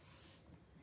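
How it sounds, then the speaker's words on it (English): A spray bottle mists box braids in one short, soft hiss of spray that quickly trails off, faint and close. "So basically I'm spraying the braids."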